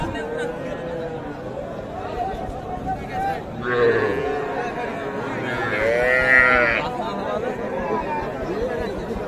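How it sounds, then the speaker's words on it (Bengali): Small calves and cattle at a busy cattle market give two drawn-out moos, one after the other, over steady crowd chatter and nearby voices. "এই পাশে এগুলো সবগুলো কিন্তু ছোট ছোট বাছুর।"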